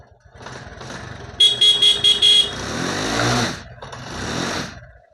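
A 2016 TVS XL 100 heavy duty moped is kick-started: a rapid series of short bright beeps, then the small engine catches and revs up loudly, dips and swells again, close by.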